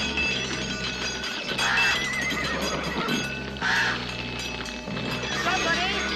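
Horses whinny loudly twice, high and shrill, over a background of music, with faint hoofbeats and some voices mixed in.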